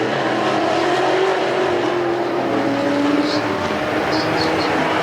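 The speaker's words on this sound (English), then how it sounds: "Now he gets back on the throttle" Race cars in a figure 8 event at Perris Auto Speedway, engines roaring and revving continuously as they pass, loud and busy with overlapping motors and a faint announcer voice underneath.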